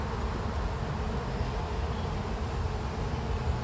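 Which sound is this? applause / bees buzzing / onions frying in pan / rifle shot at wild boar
bees buzzing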